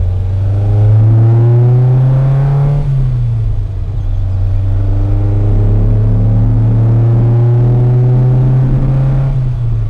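A Fiat X1/9 mid-engine sports car drives along, its engine droning loudly and steadily as the revs climb, drop at a gear change and climb again, heard from on board without speech.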